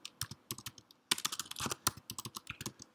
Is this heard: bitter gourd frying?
no